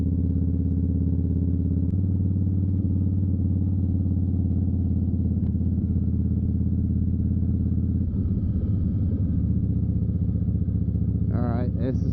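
A motorcycle engine drones steadily throughout a ride, a loud continuous mid-pitched hum with little change, and a person speaks briefly near the end.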